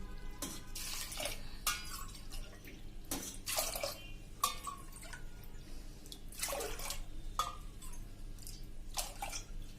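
Water splashes and pours into a metal pressure cooker, about 3.25 cups for khichdo, in several uneven bursts, close by, over a steady background hum.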